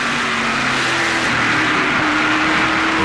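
NASCAR Canadian Tire Series Dodge Avenger race cars drag race down a backstretch, a loud sustained engine roar with a rising revving pitch heard from onboard, with no talk.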